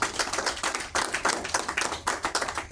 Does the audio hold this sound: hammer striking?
no